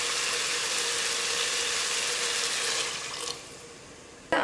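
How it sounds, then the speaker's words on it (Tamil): Water is poured steadily into a pot of kodo millet for kichadi, a continuous rushing splash that tapers off near the end, followed by a short clatter. "மூணு கப்பு தண்ணி ஊற்றிக்கலாம்."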